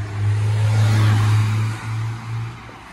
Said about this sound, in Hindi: तो भाई गाड़ी पीछे बहुत तेज़ ला रहा है अंदर।